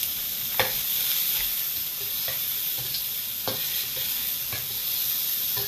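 Onions and garlic sizzle steadily in hot oil in a pan, a continuous bright frying hiss broken by several sharp stirring scrapes and clicks, close and alone with no voices.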